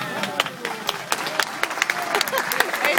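Scattered hand claps and brief clapping at a zoo, sharp irregular bursts mixed with background voices and crowd noise, fairly close and moderately loud.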